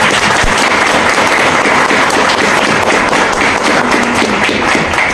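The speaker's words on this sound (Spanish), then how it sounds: "si nos permite le damos un aplauso" Dense, steady applause from a crowd fills the space, sustained clapping throughout with a few louder thumps near the start.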